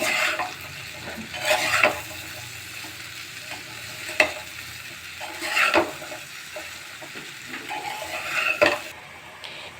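Malabar spinach stems and potatoes stirred together in a pan, with a soft steady frying sizzle broken by several sharp scrapes and clinks of the spoon against the pan.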